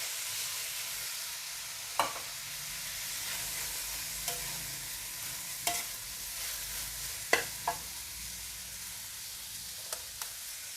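Glass noodles stir-fried in a pan, with a soft steady sizzle under scattered spatula scrapes and taps spaced every second or two, fairly quiet and with no voices.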